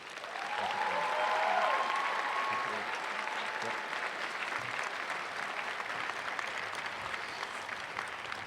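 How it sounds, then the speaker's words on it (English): Sustained applause from a large crowd at a high school graduation ceremony, loud and steady, with a few whoops early on and clapping continuing evenly throughout. "So please give a round of applause for Monique."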